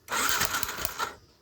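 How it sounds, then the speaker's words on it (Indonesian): Electric starter cranking on a Yamaha Jupiter MX motorcycle that won't run because of a loose, leaking ignition lead, a brief whirring churn lasting about a second, close and moderately loud, with no voices. "Ini bisa di starter, boleh teman-teman di starter."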